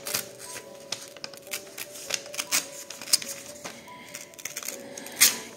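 Paper from a cheap magazine is torn and crumpled by hand while making junk journal bunting, a series of close, crisp rips and rustles in irregular bursts, with no voice over them.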